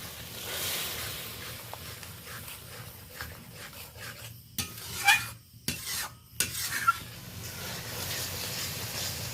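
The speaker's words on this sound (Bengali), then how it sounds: "ভালো করে কষানো মশলার সাথে নারকেল বেট করা নারকেলটা মিশিয়ে নিই" Grated coconut paste is stirred into fried spice paste in a pan, with a continuous soft sizzle under steady scraping strokes and a few sharper, louder stirring scrapes in the middle.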